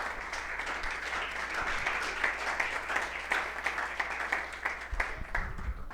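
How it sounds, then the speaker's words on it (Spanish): An audience at an academic lecture on posthumanism gives the speakers another round of applause, a sustained room-filling patter of clapping at moderate volume over a low hum, with some handling thumps near the end. "démosles otro fuerte aplauso"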